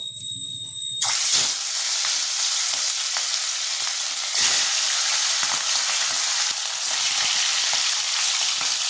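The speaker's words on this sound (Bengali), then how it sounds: "এবার মাছগুলোকে হালকা করে ভেজে নেবো" Fish, likely hilsa, frying lightly in hot oil in a home kitchen, with a loud steady sizzle and hiss that starts abruptly and runs on continuously, with brief surges and occasional spatter.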